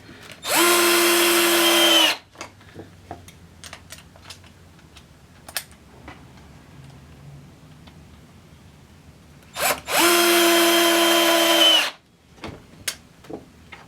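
Two bursts of a WORX Switchdriver cordless screwdriver whirring as it drives a screw, each about two seconds, near and loud, with scattered clutch clicks and taps between them.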